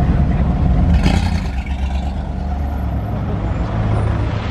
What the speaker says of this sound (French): c'est les camions qui arrivent pour se garer devant l'hôtel.